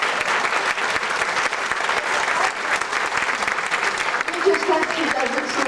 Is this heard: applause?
yes